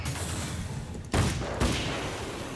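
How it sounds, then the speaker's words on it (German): Gunfire in the video game Alan Wake's American Nightmare: two sharp shots about half a second apart over a steady background of game ambience. "es dauert auch mit Headshot zwei Schüsse"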